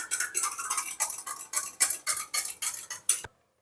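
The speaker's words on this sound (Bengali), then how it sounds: "সুন্দর করে ডিমটা ফেটিয়ে নেব, মাছে কোট করার জন্য ডিম একটু লাগবে।" An egg with a little salt is whisked in a bowl to coat fish, a fast steady run of about a dozen crisp clinking strokes close up, then it stops abruptly.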